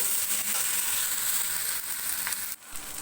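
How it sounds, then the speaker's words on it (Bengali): Onions frying in a pan for a large batch of butter chicken: a steady, close, bright sizzle and hiss that runs throughout, with a brief dip near the end and no talking. "আমি পেঁয়াজগুলো আগে ভেজে দেবো।"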